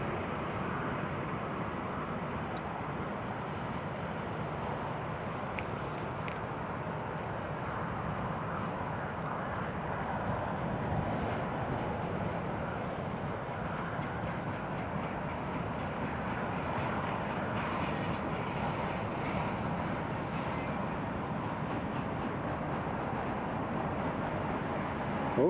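A KLM airliner lands in strong wind, its engines a faint, steady distant rumble mixed with gusty wind noise, unbroken and without any voices over it.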